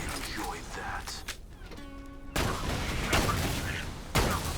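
Gunshots in Borderlands 2 come as bursts of loud, sharp reports split by a short lull with a ringing tone, under ongoing talk.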